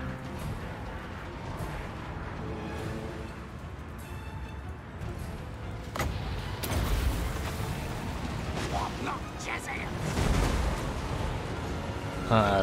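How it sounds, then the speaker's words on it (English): Rattling guns opening fire in a real-time strategy video game, a busy stretch of booming shots and bursts that grows heavier partway through, heard under a speaking voice. "Rattling guns opening fire."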